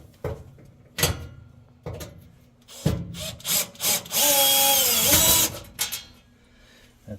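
A power drill spins out the P2 screws of a Samsung oven door in short whirring bursts, with clicks and handling knocks between them and one longer, louder run.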